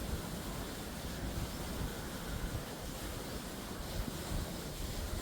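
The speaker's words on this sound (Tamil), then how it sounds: "சப்பில் தண்ணி விழுந்துட்டு இருக்குது பாருங்க" Water from a submersible borewell pump pours down into an open farm well on a coconut grove, a steady, wide rushing splash heard faint and continuous with no break.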